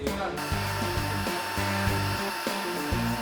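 Vacuum cleaner sucking soot dust from gaps in a fire-damaged wall during house restoration cleaning, a loud steady whine with a shifting, warbling pitch as the nozzle presses along the wall.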